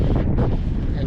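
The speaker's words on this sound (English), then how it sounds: "I don't know whether you can hear me against the wind" Strong wind buffeting a sailboat under sail with the engine off, a loud continuous roar and rumble of gusts, with a voice talking under it.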